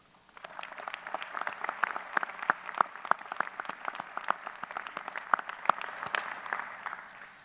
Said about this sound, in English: Let's take a moment to thank them with a round of applause